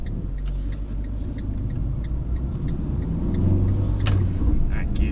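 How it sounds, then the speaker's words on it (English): A Fiat 500 Pop with a Dualogic automated manual gearbox driving with the air conditioning off, giving a steady low engine and road rumble throughout, swelling slightly toward the end. "Now I'm driving it with the aircon off"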